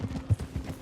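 Horse hooves clip-clop in Red Dead Redemption, a quick run of soft, muffled hoofbeats at a steady walking pace, fairly close, with one heavier thud midway.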